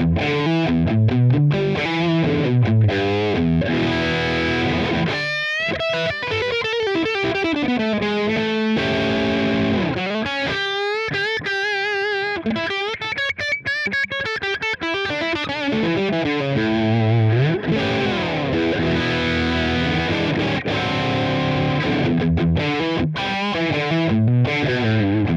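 Heavily distorted electric guitar through a Line 6 Helix amp modeler plays continuously, mixing chugging riffs and sliding lead lines with a thick, saturated amp tone and no voices.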